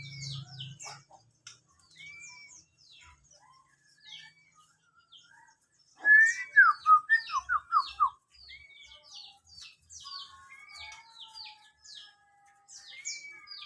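An oriental magpie-robin sings a varied string of bright chirps and whistled phrases, with a louder burst of rapid notes midway, heard fairly close in a quiet outdoor setting with no talking.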